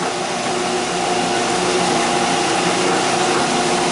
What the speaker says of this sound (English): What's the load on the belt sander?